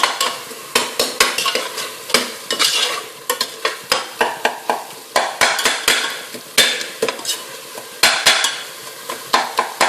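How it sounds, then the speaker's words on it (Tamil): Tomatoes being stirred and crushed while sautéing in a pan for a tripe (kudal) gravy, with repeated sharp scraping and tapping strokes in an irregular rhythm over a steady sizzle, close and fairly loud. "இப்போ கிண்டி விட்டுக்கோங்க, நல்லா நசுக்கி விட்டுங்க தக்காளியை"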